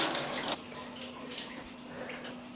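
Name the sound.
water rushing from a handheld shower in a hotel bathroom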